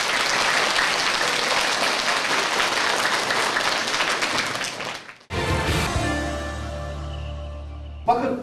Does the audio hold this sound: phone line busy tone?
no